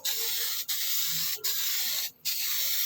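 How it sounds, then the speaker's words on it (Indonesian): A dashboard coating sprayed thinly onto a car's dashboard, a steady, loud, close hiss from the spray can broken by three brief gaps as the nozzle is released, with no talking. "kita semprot tipis dulu"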